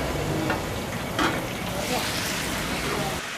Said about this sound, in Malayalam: അത് മൊത്തം നമുക്ക് വറുത്തെടുക്കണം